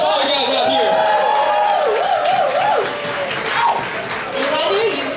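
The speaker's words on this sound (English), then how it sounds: "Give a round of applause for all you guys out here." An audience at an international film festival awards night applauds as a broad wash of clapping beneath a loud, excited voice speaking over it throughout.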